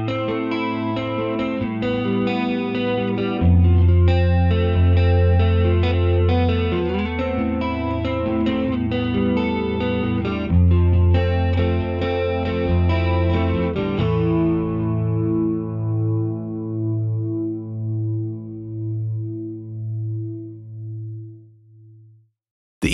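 An EC-300 Echo Collection delay plugin processes a distorted, chorused synth or guitar line, loud tonal notes whose repeats pulse evenly and fade away into a long decaying echo tail, with no voices.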